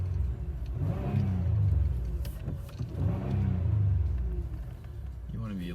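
A used car idles at an auction inspection with a low, steady engine rumble and a couple of slight revs, heard close by under someone talking.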